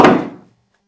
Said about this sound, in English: knocking a book to the floor